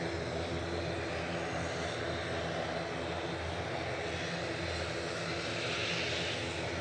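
An Aurigny aircraft on flight 671 to Guernsey at Manchester Airport gives off a sustained, even engine drone with a humming undertone, moderately loud and unbroken throughout.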